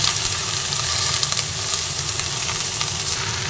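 Malabar spinach is tipped into a pan of katla fish head frying with spices, giving a loud, continuous sizzle and hiss with scattered crackles and stirring sounds.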